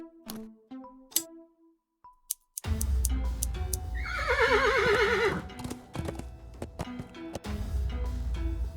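A horse in the video game Willy Morgan gives a clear, loud whinny in a descending warble midway through, preceded by sparse clicks and followed by steady hoof clip-clops and stable ambience.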